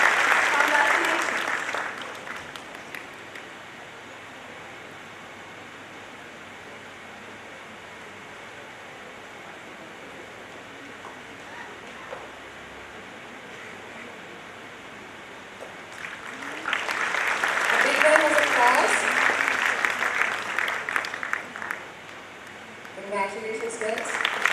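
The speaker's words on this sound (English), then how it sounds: "Please give them a big round of applause." A hall audience at a college orientation programme applauds students being congratulated, with a brief burst of clapping at the start and a louder, sustained round of applause later, between quieter stretches of room noise.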